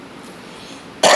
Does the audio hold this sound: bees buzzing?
no